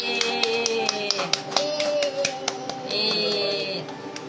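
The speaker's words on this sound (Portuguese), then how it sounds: "E as palmas louvam ao Senhor" Hands clap in a steady run of sharp, bright strikes in praise of the Lord during a Good Friday Easter worship, with an organ or keyboard holding tones underneath and no one speaking.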